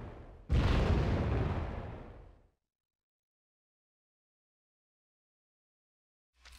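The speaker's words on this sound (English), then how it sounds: "Got more mortar fire." Mortar round explosions in the video game Wargame: Red Dragon: one heavy, close boom that rolls off over about two seconds, then silence, with a second blast just starting at the very end.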